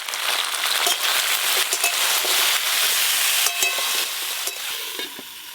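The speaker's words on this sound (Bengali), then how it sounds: "সর্ষে ভেন্ডি রান্নার জন্য ভেন্ডিগুলো প্রথমে ভালো করে ভেজে নেব।" Okra frying with turmeric powder and salt, a dense steady sizzle with scraping stirs throughout, close and fairly loud, easing slightly toward the end.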